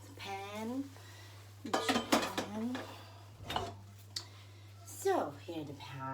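Metal pan and utensils clatter and clink in a home kitchen before stir frying for spring rolls, several sharp knocks and scrapes in short bursts, with a person speaking between them over a steady low hum.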